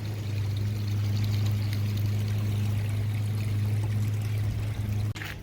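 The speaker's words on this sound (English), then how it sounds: "You just run the old hose through and stir it up" A garden hose runs water through aquarium sand in a steady, continuous pour, with a low, constant hum beneath the flow and a brief bump near the end.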